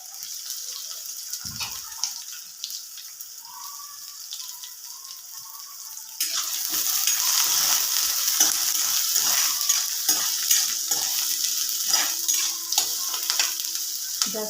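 Cooked onions frying in a pan for a Marathi kurdai vegetable dish, a quiet stir at first, then a louder steady sizzle with scraping stirs running throughout, close and without talk.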